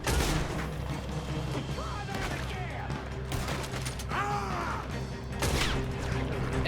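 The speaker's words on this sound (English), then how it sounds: "Damn, that was a sniper shot." Gunfire crackles through a chaotic Red Dead Redemption 2 shootout, a sniper rifle shot among sharp bangs and impacts over a busy battle din, with voices shouting in the background.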